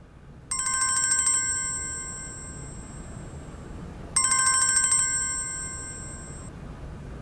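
A telephone rings twice with a bright electronic trill, each burst lasting about a second and followed by a long fading tail, then a pause before the next, close and loud over a quiet room.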